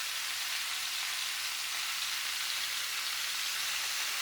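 Potatoes frying in a skillet for smothered potatoes, a steady, even sizzle of hot oil that stays constant throughout with no voices.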